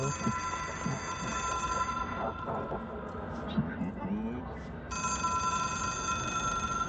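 A telephone rings inside a video game, a bright electronic trill that sounds at the start, drops away under game ambience and talk, then returns steady and clear near the end.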